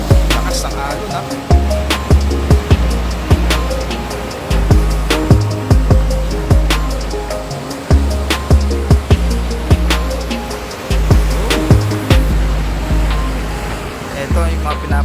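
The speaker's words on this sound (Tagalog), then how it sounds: "Lakas ng alon ha." Strong surf on the rough sea at Lawag, Ilocos Norte, with loud, close waves crashing in a steady, repeating series of surges and a constant rushing wash between them.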